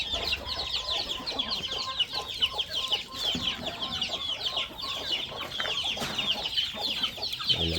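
A flock of chickens clucks continuously close by, with overlapping bursts of clucking and chatter from many birds.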